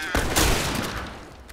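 Gunfire in The Last of Us Remastered on PS5 during a zombie invasion, a dense burst of shots blurring into a loud, roaring fusillade that slowly decays.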